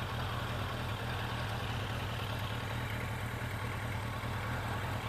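A Yamaha XJ750 motorcycle engine idles steadily nearby, with a continuous low rumble and an even, smooth hum and no revving.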